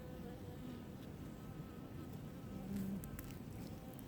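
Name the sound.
honeybees buzzing at a hive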